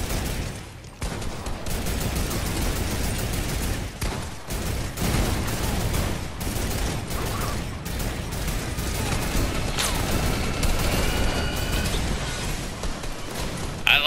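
Gunfire in the video game Fortnite, part of a food-fight episode, rattles in dense rapid bursts of repeated loud shots that run almost unbroken through the stretch, with some mechanical clatter and impacts.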